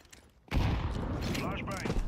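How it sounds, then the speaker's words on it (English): A flashbang grenade goes off in the Counter-Strike 2 video game with a sudden loud blast, followed by a sustained dense roar of noise. A voice speaks briefly over it. "Throwing a flashbang."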